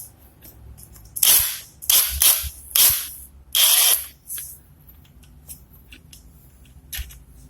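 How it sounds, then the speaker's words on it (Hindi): A 19 mm socket on a ratchet loosening a nut on a Suzuki GR150 motorcycle engine during disassembly, heard as several loud, sharp metallic clicks and bursts separated by short pauses, close by, with no speech. "19 mm की सॉकेट है, ठीक है। और इसको हम खोल लेंगे।"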